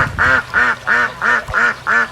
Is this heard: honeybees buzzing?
no